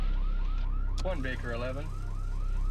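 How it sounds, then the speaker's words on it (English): A car alarm from a 1974 film, its repeating warbling siren tones cycling steadily under a low engine-like hum, with a brief radio voice cutting in over it. "Sounds like he forgot about his alarm system."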